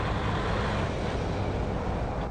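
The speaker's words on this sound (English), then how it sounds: "And that's the engine brake." Engine brake of a Mercedes-Benz truck slowing the vehicle on approach to a roundabout, a steady loud low rumbling drone heard from inside the cab, with no talking.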